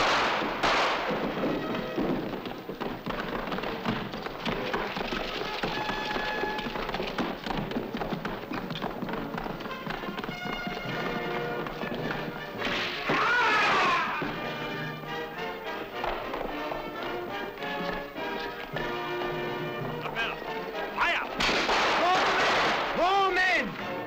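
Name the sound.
gunfire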